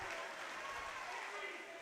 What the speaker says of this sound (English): Solid round of applause from those in attendance inside Turner Gymnasium